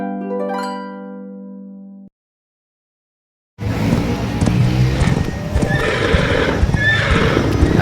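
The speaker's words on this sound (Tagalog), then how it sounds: "Ayan na, nakawala na ang kabayo." A loose horse neighs in a long, loud whinny, then after a brief silence its hooves clip-clop busily over a noisy street background with passing engine sounds.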